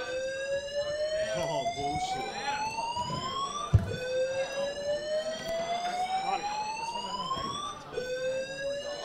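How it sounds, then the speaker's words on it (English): A smoke alarm set off by vaping at a live show shrieks continuously in rising, repeating electronic sweeps, with a brief voice exclaiming over it and background commotion. "apparently the vaping has set off the fucking smoke alarms"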